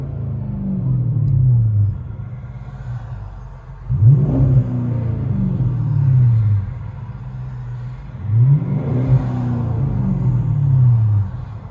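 Inside the cabin of a 2008 Chrysler 300C with a 5.7L HEMI V8 and dual Magnaflow exhaust, a deep burbling idle rises twice into strong revs and settles back each time, a low and loud rumble throughout.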